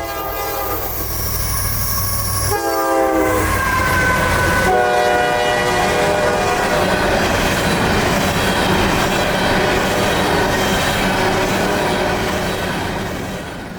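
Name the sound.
coal train passing with horn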